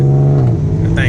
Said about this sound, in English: That thing sound good too, boy. That V6 sound good.